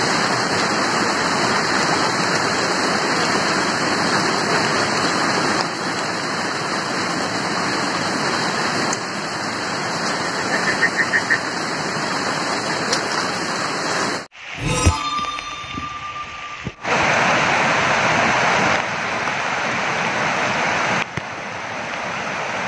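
Curug Cijalu waterfall in Purwakarta, in river country with swift streams, gives a loud, steady broadband roar of falling water with no voices. Midway it cuts out briefly and shifts, then the roar resumes.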